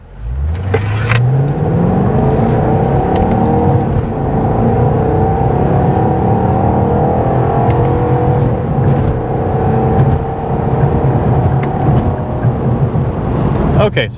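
A Chevy SS sedan accelerating hard in sport mode with manual paddle shifts, engine note climbing steadily in a loud, continuous in-cabin roar with a shift break early on.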